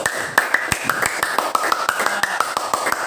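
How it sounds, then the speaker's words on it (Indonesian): Steady group applause from many hands in a classroom, a rapid run of sharp claps lasting the whole time with a bright room echo. "Tepuk tangan untuk 1 dulu."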